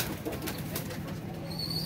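Pigeons kept in a coop are heard faintly at a distance, with soft wing flaps and low cooing set against steady background noise.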